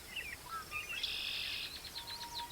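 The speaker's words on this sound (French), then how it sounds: "un oiseau gazouille avant de prendre son envol" A single bird chirps and twitters in a series of bright, high calls, then a brief rustle suggests it taking off from a branch; quiet, clear and alone, staged as a sound effect in a radio drama.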